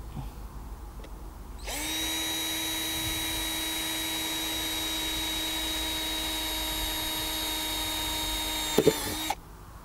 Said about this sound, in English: Just going to drill in.